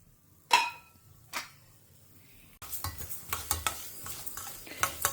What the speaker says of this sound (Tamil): இதில் இப்போ இந்த வறுத்துக்கிற சாமான்கள்லாம் போட்டுடலாம்.